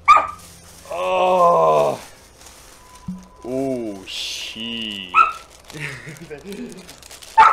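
A dog in the S.T.A.L.K.E.R. video game barks, yips and whimpers in short bursts over a few seconds, while someone talks briefly alongside it.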